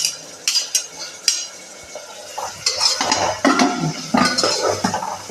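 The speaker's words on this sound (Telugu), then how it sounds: "ఉల్లిపాయలు బాగా వేగిన తర్వాత గ్రీన్ చిల్లీ వేసుకుంటున్నాం" Onions and green chillies frying in oil for vegetable biryani, with repeated scraping and clinking of a utensil stirring in the pan over a steady low sizzle, close and moderately loud.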